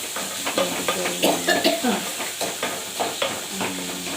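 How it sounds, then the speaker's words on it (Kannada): Cumin, mustard seeds, urad dal and chana dal sizzle and crackle in hot oil as a tempering for masala rice, a steady frying hiss with scattered pops and stirring clinks, close and continuous with no talk. "ಈ ಮಸಾಲೆ ರೈಸ್ ಆ ಕಡೆ ಒಗ್ಗರಣೆ ಮಾಡಾಕಂದ್ರೆ ಮಸಾಲೆ ರೈಸ್ಗೆ ಜೀರಿಗೆ ಸಾಸಿವೆ ಉದ್ದಿನಬೇಳೆ ಕಡಲೆಬೇಳೆ"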